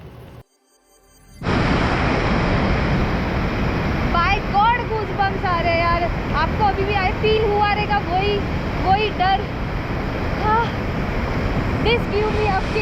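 A heavy, rushing glacier-fed river flows fast beside a mountain trail, a loud continuous roar of water that dominates throughout while someone talks excitedly over it.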